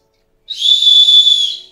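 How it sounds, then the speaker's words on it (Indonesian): A single sharp, shrill whistle blast lasting about a second, loud and close, with no other sound around it. "safety whistle atau peluit untuk SOS, keadaan darurat"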